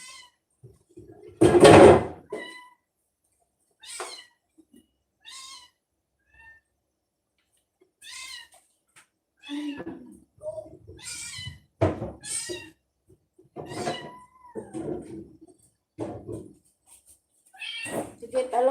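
A cat meows repeatedly in short separate calls, close and clear, with quiet gaps between them, alongside a knock-like thump near the start and occasional human speech.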